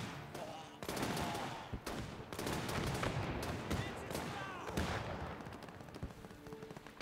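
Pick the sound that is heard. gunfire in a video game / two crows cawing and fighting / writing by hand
gunfire in a video game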